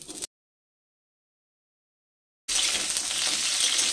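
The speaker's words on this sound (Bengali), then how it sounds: "এবার ওই তেলের মধ্যে আমি ফুলকপিগুলোকে দিয়ে দিচ্ছি।" Cauliflower pieces sizzle in hot oil in a pan, a loud, dense frying hiss that starts abruptly after a brief silence.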